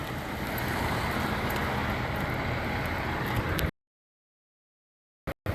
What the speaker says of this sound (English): Traffic's backing up pretty far